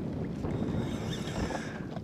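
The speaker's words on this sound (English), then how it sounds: "It's starting to get pretty windy out here." Wind gusting across a lake around a small fishing boat, a steady low rumble and buffeting on the microphone that stays loud and continuous throughout, with faint water noise beneath.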